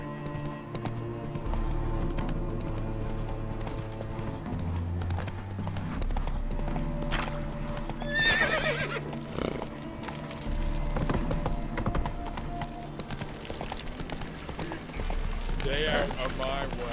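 Roach, a horse in The Witcher 3, gallops with a steady, loud clip-clop of hooves over a music score, with a brief neigh partway through and people talking at times.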